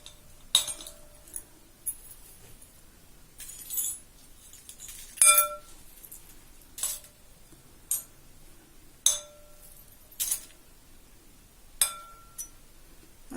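Tarnished silver pieces dropped one by one into a bowl, giving a series of separate bright metallic clinks spaced a second or so apart over a quiet background, with no talking.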